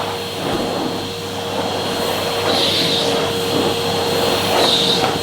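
Hetty XL Plus vacuum cleaner running steadily with a loud continuous motor drone and a shifting suction whoosh, close by and alone.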